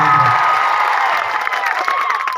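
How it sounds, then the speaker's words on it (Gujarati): A crowd at an outdoor political rally cheers and applauds loudly and continuously, with shouts and whoops layered over steady clapping. "જોરદાર તાળીઓ"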